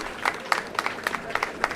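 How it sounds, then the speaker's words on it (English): Sparse, scattered hand claps from an audience at a graduation day ceremony as an award is presented, a light patter of individual claps rather than a full ovation, moderately distant. "Everyone please give a big round of applause to the awards."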